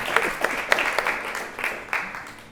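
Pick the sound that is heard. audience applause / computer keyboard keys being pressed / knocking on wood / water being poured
audience applause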